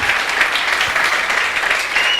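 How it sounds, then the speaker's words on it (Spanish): Church congregation applauding during a live worship service, a loud, continuous roar of many people clapping together throughout, steady and full with no speech over it. "Dale un fuerte aplauso porque es para Cristo,"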